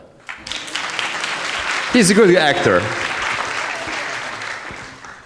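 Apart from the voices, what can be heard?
audience applause for Carlo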